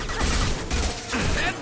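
A concussive shot ability fires in Mass Effect 2, heard as a couple of heavy, dense bursts of impact and crash amid continuous game noise.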